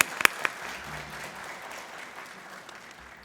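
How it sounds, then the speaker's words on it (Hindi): An audience claps steadily to welcome the poet Monika Singh on stage at a kavi sammelan at Pune International Centre. A few sharp, close claps come first, then a moderate, even wash of applause. "आइए जोरदार तालियों से स्वागत करें"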